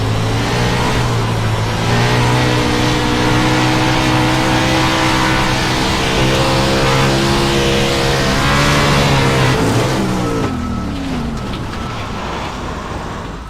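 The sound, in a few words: race car engine revving in a racing video game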